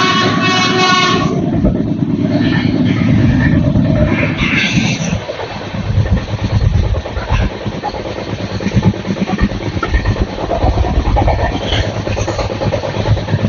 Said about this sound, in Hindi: यहाँ फतुहा जंक्शन से निकल चुकी है ट्रेन